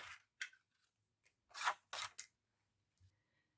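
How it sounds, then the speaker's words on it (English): A hand tag punch cuts through basic white cardstock in a few crisp clicks and snaps, separated by short pauses, close and quiet with no talking. "I'm just going to punch it as is for this one using some of the basic white cardstock"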